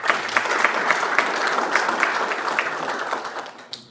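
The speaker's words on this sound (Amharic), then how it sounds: "ለእነሱም ጭብጨባ ባካችሁ" Warm applause from an audience at a book launch: a steady crowd of clapping hands with a few sharper claps standing out, gradually thinning toward the end.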